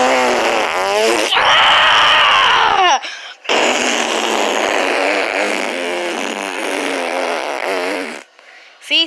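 Loud, sustained fart noises, close and harsh, running in long buzzing stretches with a brief break and a sudden cutoff near the end.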